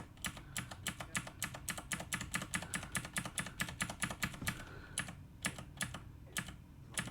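Rapid typing on a computer keyboard, a steady run of close, crisp key clicks with a few brief pauses toward the end, no voices.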